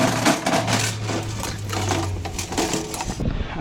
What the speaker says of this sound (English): Now we have to put the slide outs out.